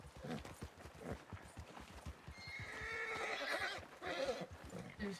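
A horse whinnies and its hooves clop in a steady walking rhythm in a Western ranch roleplay game, the neigh rising loud in the middle over continuous hoofbeats.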